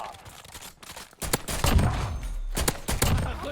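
Bursts of video game gunfire in Warzone, including shotguns, crack and thump in quick clusters, loud and close, with several sharp shots standing out.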